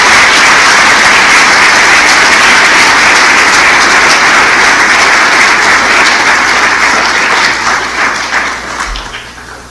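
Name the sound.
audience applause in church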